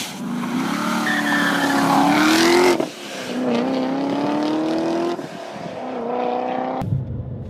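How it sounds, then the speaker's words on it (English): A Hennessy-tuned 2014 Corvette, a limited 700-horsepower edition, roars loudly and continuously with rising engine revs and screeching tire squeal across several hard pulls, with no talk over it. "It was like a limited edition, 9 out of 100, tuned by John Hennessy, 700 horsepower, 2014."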